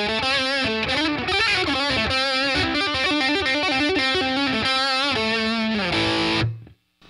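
Electric guitar through a Boss Katana amp on the brown channel with variation on, a saturated, crunchy lead line of quick notes and sustained bends played for several seconds before stopping abruptly.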